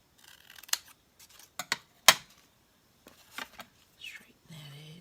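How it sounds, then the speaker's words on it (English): Scissors trimming paper in a quiet craft setting, a few sharp snips and rustles spread over several seconds, close and fairly soft. "I think I'm just gonna trim that down."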